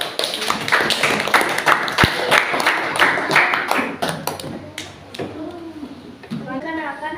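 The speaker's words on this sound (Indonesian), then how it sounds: "Jadi tepuk tangan." A classroom group claps together in a lively burst of applause, with children's voices and chatter over and between the claps as it dies down.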